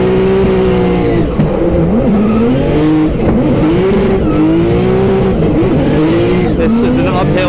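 A 700-horsepower Nissan 350Z on the E-Town race track in New Jersey howls under hard driving, its tires squealing in repeated wavering bursts over a loud, continuous engine roar. A voice is heard over the noise.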